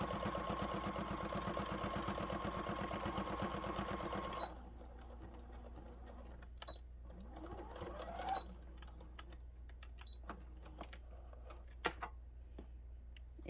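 A sewing machine runs in a fast, even burst while sewing a fleece bumblebee, then stops abruptly, leaving a quiet room with scattered small clicks and handling sounds.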